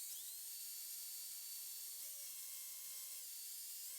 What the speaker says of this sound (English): I'm going to go ahead and drill a small amount in this as well